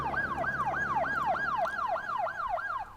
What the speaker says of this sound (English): We have an ambulance coming in.